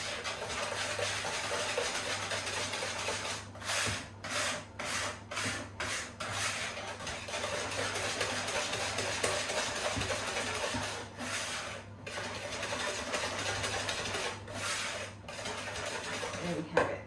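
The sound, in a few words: whisking eggs and sugar in a bowl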